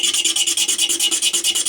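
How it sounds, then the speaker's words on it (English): A single-edge razor blade scrapes across wooden deck planking in quick, even back-and-forth strokes, a bright rasping rhythm of about ten passes per second, close and loud with no voices. "I'm going to give it a final scraping"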